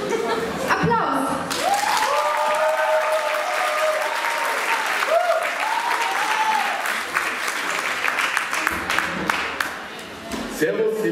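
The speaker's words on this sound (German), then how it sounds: "Applaus!" Audience at a LoriCon 2018 convention show applauding a comedian taking the stage, a dense sustained wash of clapping with scattered cheers and shouts over steady crowd noise.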